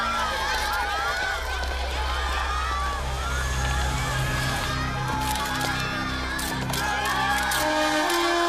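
A crowd at a tennis championship final in India buzzes loudly with cheers and shouts before the match, under a voice speaking throughout.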